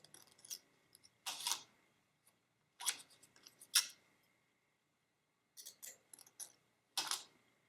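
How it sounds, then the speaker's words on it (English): Scissors snipping folded paper into heart shapes, several short bursts of crisp cutting close up, separated by quiet pauses. "This is usually how I cut out my hearts so that they'll come out"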